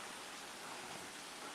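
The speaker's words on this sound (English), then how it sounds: "it's raining outside" Steady rain falling outside, a soft, even hiss of drops that stays constant and fairly faint throughout, with no voices.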